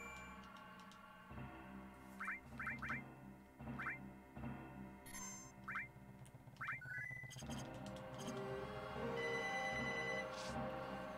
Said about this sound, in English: Of course, the phone rings the moment I go live.